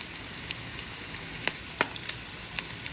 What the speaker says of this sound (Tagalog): Igisa ang bawang at ang sibuyas, gamberi, asin,